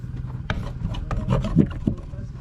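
A small scraper works dirt off the fuel tank of a 2013 Bobcat E35 excavator, giving a close run of short gritty rasping strokes.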